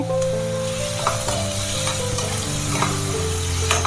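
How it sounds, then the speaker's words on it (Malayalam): Kerala-style squid curry is stirred in a hot pan, a loud, close sizzle with a low steady hum and a few soft scrapes of the spoon, no talking. "ഇനി ഇതൊന്ന് ഇളക്കി കൊടുക്കാം"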